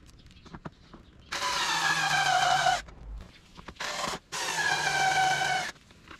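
A cordless power screwdriver whirs in three bursts: a long run, a short blip, then another long run, each with a steady motor whine and clean stops. It is used during air filter work on a 2019 Honda XR150L.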